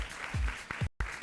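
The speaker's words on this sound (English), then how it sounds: "can we please give it up for another round of applause for Africa Group 2?" An audience applauds pageant candidates at the Miss Earth 2025 event, with brief, close clapping and a short dropout partway through.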